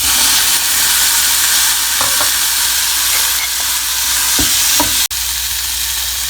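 Onions and tomato sauté in oil in a pan for Tamil chicken curry, a steady close frying hiss broken by several spatula scrapes and stirs, with no talking.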